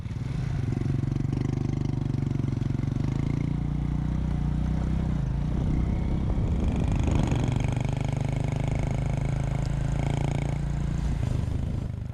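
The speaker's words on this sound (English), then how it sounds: "we hire motorbikes" Hired motorbikes ride through the Congo countryside with a steady, loud engine drone and rough clatter that holds without a break, rising and falling slightly in pitch.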